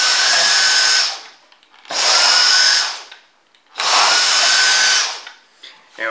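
A cordless handheld vacuum cleans up a mess in three loud, close bursts of high whining suction, each about a second long, separated by short pauses.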